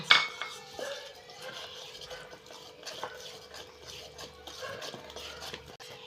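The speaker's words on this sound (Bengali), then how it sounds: "আমি ব্যাটারটা একটু ঘন হয়েছে, এতে অল্প একটু দুধ দিয়ে মেখে নেব" Thick cake batter loosened with a little milk is stirred in a bowl, giving soft, irregular scraping and clinking of utensil against the dish, fairly quiet and close, with no talking.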